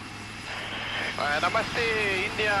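A Rafale fighter jet roars overhead during an inverted turn at the Aero India air show in Bengaluru, its engine noise loud and shifting in pitch beneath a voice.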